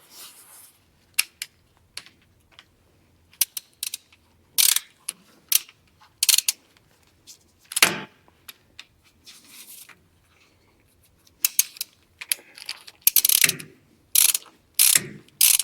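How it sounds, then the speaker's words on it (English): A 3/8-inch square drive socket ratchet snugs down a bolt on a Ford F150 rear axle during a bearing and seal repair, giving bursts of sharp clicking separated by pauses, close by and without talk. "this is just a 3/8 square drive, like your socket, to tighten that thing up"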